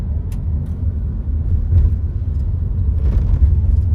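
On a narrow asphalt road in Bermuda, a car rumbles close by with a steady low engine and tyre drone, swelling slightly near the end, alone without talk.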